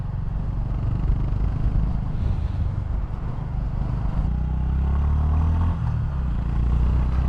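A 2025 Honda GB350S, a 350cc single-cylinder motorcycle, pulls steadily under acceleration with a continuous low engine drone and rumble, loud and close with wind buffeting, no talking.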